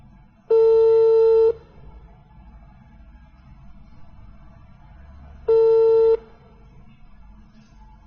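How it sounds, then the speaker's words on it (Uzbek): A telephone call rings out with two long, steady tones spaced about five seconds apart, clear and loud over quiet room noise. "ustozimiz Mayra Zakirga Ahmaydan telefon ursak"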